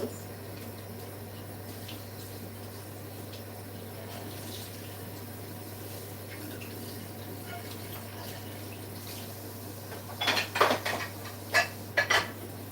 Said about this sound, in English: I'm just going to wash the vessels.